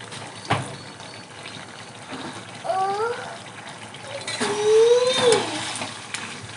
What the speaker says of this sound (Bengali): এবারে সামান্য জল দিচ্ছি।